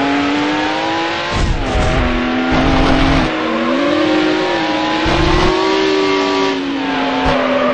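Ferrari race car in Need for Speed Hot Pursuit 2 roaring at high speed, its engine pitch climbing and shifting through gears with bursts of tire noise, loud and continuous throughout.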